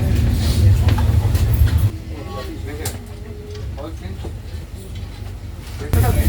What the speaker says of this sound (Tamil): ட்ரெயின் மூவ் ஆயிடுச்சு